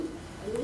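A pigeon in its loft gives a short, soft coo that rises slightly at the end, heard close and alone over a faint, steady background.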